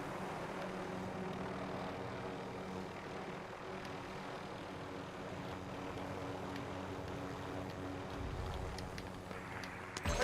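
Aircraft engine drone in the Warzone video game, a steady low rotor-like hum holding loud and constant throughout, with no talk over it.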